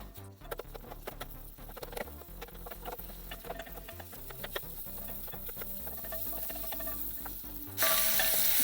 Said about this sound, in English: now we add the onions. And the bay leaves.